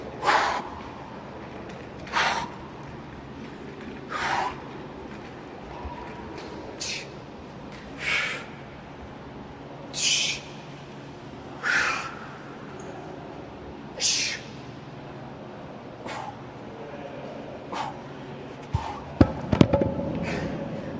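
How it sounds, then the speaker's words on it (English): Sharp, forceful breaths repeat at a steady pace about every two seconds during an abdominal exercise, close and distinct over quiet room noise, with some faint clatter toward the end. "Once again, you can really hear that breathing."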